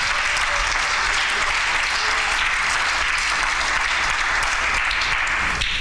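Congregation applauding loudly in a church service, continuous dense clapping from many people at an even level for several seconds.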